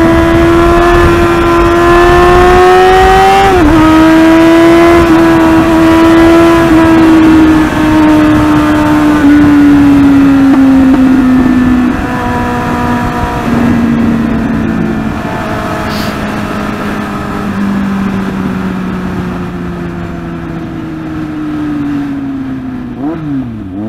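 A Kawasaki Z800 motorcycle revs hard on a highway, its loud, close engine note climbing in pitch through first gear toward top speed, then settling and gradually falling away with wind noise.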